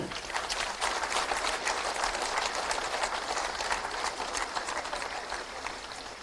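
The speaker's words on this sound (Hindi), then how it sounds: "एक बार जोरदार तालियां" Applause from an audience at an appointment letter ceremony where a chief minister presents letters, dense steady clapping that continues for several seconds without a break.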